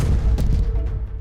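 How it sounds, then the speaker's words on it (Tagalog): A loud explosion near an apartment building in Tel Aviv at night during an Iranian missile attack, heard as a heavy low rumbling boom with a sharp burst partway through, booming and rolling for about a second. "Isa ring malakas na pagsabog ang narinig ng OFW na si Mel"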